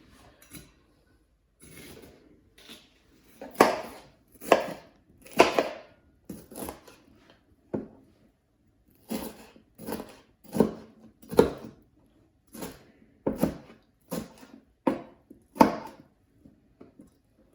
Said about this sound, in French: J'ai coupé les poivrons